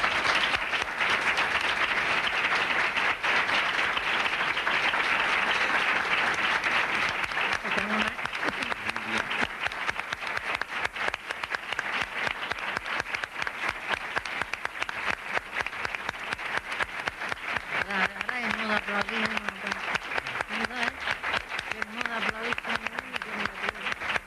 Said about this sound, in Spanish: No aplaudan más para que no aplaudan ya.